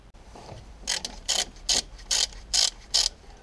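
A hand ratchet clicks in quick, evenly spaced bursts, about seven of them, as it tightens bolts during a timing belt and water pump job on a VW Sharan. The sharp metallic pawl clicks are close, with no voices.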